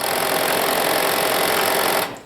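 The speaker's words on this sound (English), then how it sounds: "Don't sew over the pins. Take them out when you get to them." A sewing machine stitches a tee collar in a loud, steady, rapid whirring run close by, stopping abruptly at the end, with no voices.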